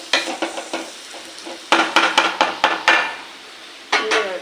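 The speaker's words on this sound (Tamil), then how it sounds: "கலக்கி விட்டுட்டு உங்களுக்கே தெரியும் தக்காளி நல்லா வெந்து வரணும்." Tomatoes fry in a pan for ivy gourd thokku as a spoon scrapes and stirs in irregular bursts of clatter over a soft sizzle, close by with no talk.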